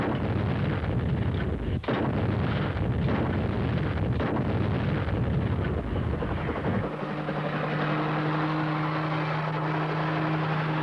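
Artillery shells being fired, heard as heavy booming blasts and rumble under a constant loud roar of aircraft noise, with one sharp crack near the start, then a steady droning engine hum toward the end.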